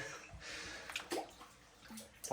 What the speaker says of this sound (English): I don't like walking in flooded mines.